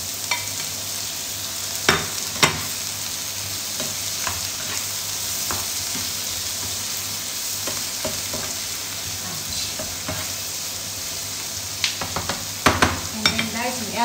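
Prawns frying in a pan, a steady close sizzle with intermittent sharp clinks and scrapes from stirring, loud and continuous with no talk.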